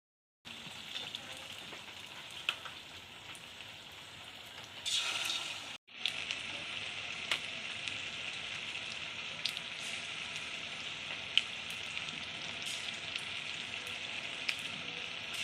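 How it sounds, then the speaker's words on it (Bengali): Paneer pakoras coated in gram-flour batter sizzle and crackle steadily in hot oil, a close continuous frying hiss with a brief louder flare and a short dropout partway through. "এবার আমি পনিরের পকোড়াগুলো ভেজে নেব।"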